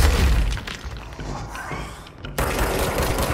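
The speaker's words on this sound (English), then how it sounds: "Ooh, large explosions." Large explosions in the video game Control hit as heavy booms with shattering debris and rapid gunfire-like crackle, loud and dense throughout, cutting off sharply and then resuming.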